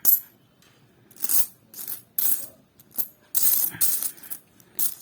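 Old Indian coins, including rupee and paisa pieces, are handled and dropped, giving a series of bright metallic clinks and jingles in about seven separate bursts. They are fairly close and there is no talk.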